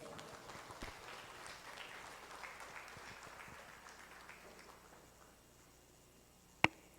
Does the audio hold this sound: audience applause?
yes